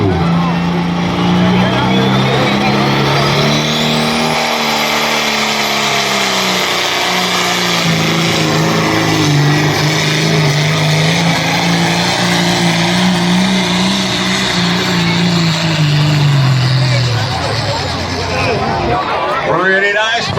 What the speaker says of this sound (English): Pretty nice pull there.